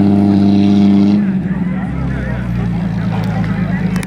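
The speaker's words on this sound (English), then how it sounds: "Nice unmolested original Capri coming in." An original, unmodified classic Ford Capri rolls into a car show with a steady, loud engine drone that lowers and rumbles on as it moves close by, and someone talks over it.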